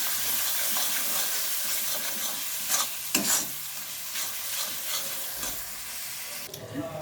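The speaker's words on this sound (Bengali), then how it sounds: "এবার মশলাটাকে আরো ভালোভাবে কষিয়ে নেব।" A spice paste with turmeric is stirred and fried in a pan over low-to-medium gas for a bombay duck fish recipe, giving a steady hissing sizzle throughout, with occasional scraping strokes of the spoon close by.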